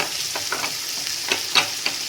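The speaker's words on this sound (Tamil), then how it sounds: "இது இப்போ நம்ம நல்லா வதக்கணுங்க" Onions sautéing in a pan for a capsicum paneer gravy give a close, steady sizzle with soft stirring scrapes and a few brighter crackles, with no talking.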